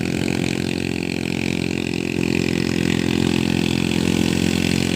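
A three-wheeler's engine pulls up a hill in second gear while towing a trailer loaded with about 800 kg. It makes a steady, loud mechanical drone that holds throughout with no pauses.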